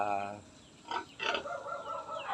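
A large sow grunts on a rural provincial homestead, a couple of short, rough snorts standing out against quiet background after a brief voice at the start.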